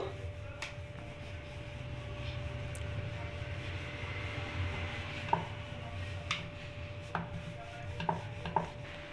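A rolling pin flattens thick dough for nimki, making faint, irregular soft knocks and taps on the board over a quiet background hum, with no voices.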